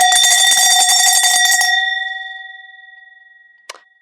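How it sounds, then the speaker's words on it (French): A metal hand bell rings rapidly for under two seconds with bright, ringing overtones, then fades out slowly, followed by one final short clang; loud and close, with no talk. "Alors on faisait encore plus fort la cloche."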